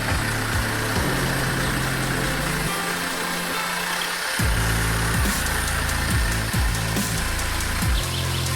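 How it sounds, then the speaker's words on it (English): A giant 710 multi-bucket excavator at a mine runs its engine with a loud, steady low rumble throughout, rhythmic knocks and shifts in pitch as the buckets scoop soil and rock. "710 multi-bucket excavator roars loudly, each bucket continuously scooping up soil and rock at the Loppet mine."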